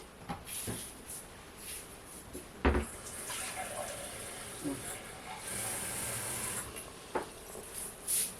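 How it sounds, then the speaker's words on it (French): Water is poured into a pressure-cooker pot of pork sautéed in cider, a soft continuous splash and hiss with a voice talking over it. "on va rajouter 25 centilitres d'eau"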